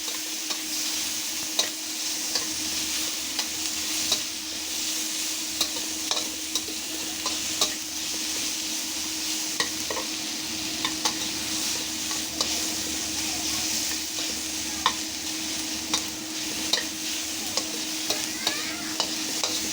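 Tomato sautéing in a pan for ginisang ampalaya with oyster sauce, a loud continuous sizzle with frequent stirring scrapes and light clicks of a spatula, close by and steady throughout with no talking.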